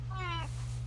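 A single short cat meow rises and falls over a steady low electrical hum, close and moderately loud, lasting under half a second.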